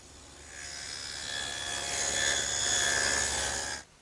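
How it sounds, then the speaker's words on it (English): A table saw cuts a dado in oak, a single steady whining cut that grows louder and holds for several seconds before stopping abruptly, with no voices. "And I'll do that over on the table saw."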